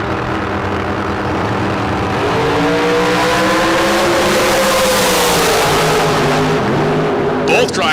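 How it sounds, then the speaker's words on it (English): Drag racing cars at a Las Vegas starting line hold a loud, sustained engine roar with rising revs, close and continuous throughout, ending in a brief sharp burst. "drivers romping on the throttle"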